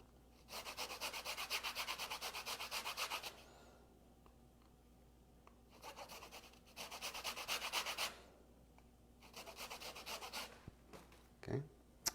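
A lemon is rubbed against a fine grater in several bursts of dry, rasping scraping, each lasting a second or two with pauses between and a brief knock near the end; no talking.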